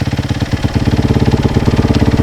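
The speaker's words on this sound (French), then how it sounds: "laissez chauffer la moto tranquillement. Écoutez-la, sentez-la" A used motocross dirt bike engine idles while warming up, a loud close steady putter of rapid, even low firing pulses that runs alone throughout.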